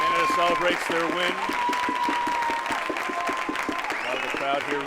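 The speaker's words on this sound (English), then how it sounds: "A lot of the crowd here rooting for Team Canada." Spectators at a junior ultimate frisbee world championship open final between USA and Canada clap and cheer for Team Canada, the applause and shouts mixed with nearby voices talking.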